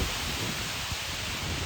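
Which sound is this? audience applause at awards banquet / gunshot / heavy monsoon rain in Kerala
heavy monsoon rain in Kerala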